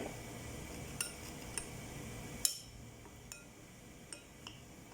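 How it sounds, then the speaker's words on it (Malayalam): A spoon stirs a thin batter of tapioca, turmeric, salt and water in a bowl, producing faint, sparse clinks and taps against the bowl with quiet scraping in between. "മിക്സ് ചെയ്യുക"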